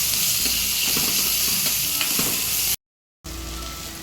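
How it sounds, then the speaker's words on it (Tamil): Onions fry in hot oil in a pan for kara kulambu, a loud dense sizzle with soft stirring taps, broken by a brief dropout of silence before the frying resumes. "இந்த இதில் வெங்காயம் போட்டு நல்லா வதங்கணும்"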